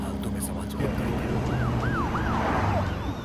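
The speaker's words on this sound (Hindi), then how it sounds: "पुलिस की गाड़ी आ रही है, नीचे छुप जाओ।" A police car siren wails in repeated rising-and-falling sweeps over the rumble of a vehicle interior in a Hindi-dubbed film scene, growing clearer as it approaches, with a low hum beneath.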